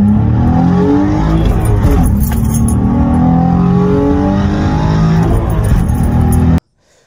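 A car engine with a holed intake reducer and a loose homemade cold-air intake gives a loud, sustained note that hangs and slowly falls before cutting off abruptly.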